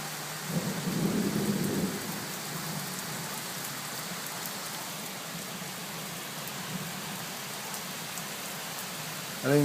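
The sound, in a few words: torrential rain with thunder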